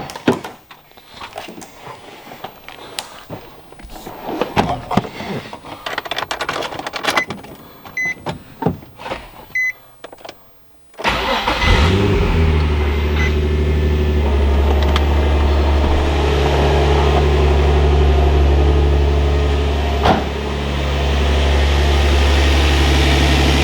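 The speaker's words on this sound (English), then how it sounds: "get this thing fired up, and make sure our valve covers are all good" A Nissan 350Z with a GReddy twin turbo setup cranks and fires up after scattered clicks and workshop handling noises, then settles into a loud, steady low idle that continues to the end.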